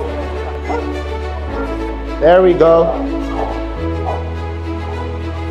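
At an American bully stack off in London, England, a dog gives a short run of close whining yips amid a steady hum and people talking.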